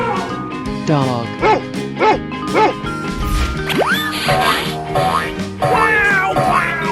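Dog barking in a 3D animal slide video game, several short bright barks in a quick series, then a boing-like rising effect and more cartoonish yips over lively game music.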